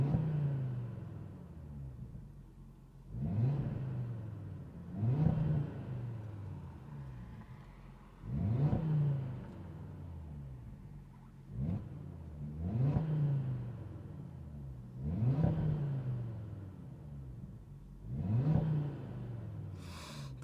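An Audi RS3 MTM in dynamic mode revs from inside the cabin in repeated low blips, about seven muffled exhaust rises spaced every few seconds, fairly quiet and alone.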